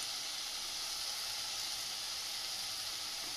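Ground coriander spice added to a hot pan of spice paste while making a katla fish curry, a faint steady sizzle and hiss throughout with no talking.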